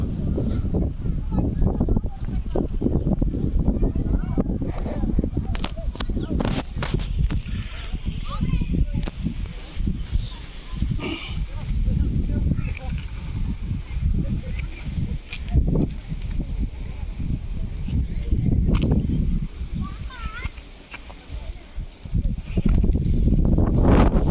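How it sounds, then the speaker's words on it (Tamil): Strong wind gusts outdoors at the Thirupudai Marudhur Shiva temple during rain. A loud, steady roar with bursts of microphone buffeting runs throughout. "காற்று நல்லா பயங்கரமாக அடிக்குது."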